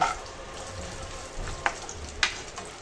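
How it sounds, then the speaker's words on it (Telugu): Dry fruits and two cardamom pods roasting in a pan for Eid sheer khurma give a low, steady sizzle, with two sharp clinks of a stirring spoon against the pan. "డ్రై ఫ్రూట్స్ రోస్ట్ చేసుకుందామండి అలాగే యాలకులు కూడా రెండు వేసినానండి"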